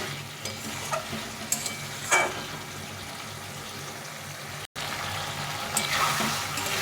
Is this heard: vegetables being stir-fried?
yes